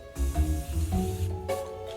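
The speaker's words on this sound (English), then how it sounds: "we're spraying the skeleton with brown spray paint" Short bursts of brown aerosol spray paint hiss close by onto a skeleton prop, a few quick sprays in a row.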